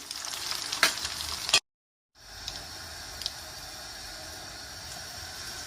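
Pieces of liver frying in hot oil, a steady close hiss of sizzling with a few crackles, broken by a brief moment of silence before the sizzle resumes; no talking.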